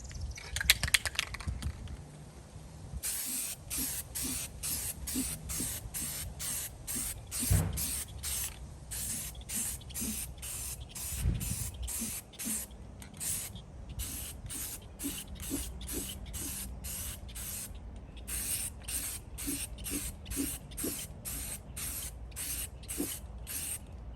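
Spray paint hisses onto the red-painted wheels of a rusty Atlas industrial tool cart in dozens of short, rapid bursts, close and rhythmic, with a few clunks and rattles of the can between passes.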